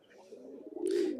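A Benaras pigeon gives a single close, soft throaty coo that swells louder toward its end, heard alone.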